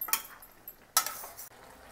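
Ladle or spoon scraping and clinking against a pot of Sri Lankan vegetable white curry as it is stirred, a few short metallic strokes at close range, then quieter.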